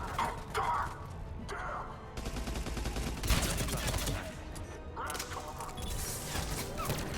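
Gunfire and crashing impacts fill a Mass Effect 3 battle, with dense bursts of shots and smashes continuing throughout, and voices heard faintly under the noise.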